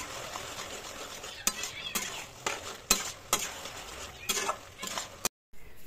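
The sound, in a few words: stirring chicken pieces in a pan for chili chicken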